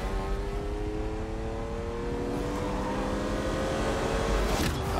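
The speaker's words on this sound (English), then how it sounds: "I love those old school cars." Vintage car engines revving in a Ferrari film trailer, a loud continuous engine roar that climbs steadily in pitch as it accelerates, with a rising whoosh near the end.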